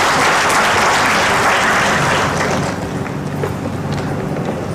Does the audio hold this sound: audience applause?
yes